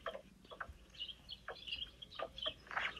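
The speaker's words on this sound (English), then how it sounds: "It sounds like all the birds came back." Birds chirp outdoors in several short, bright calls scattered over quiet background ambience, with no talking.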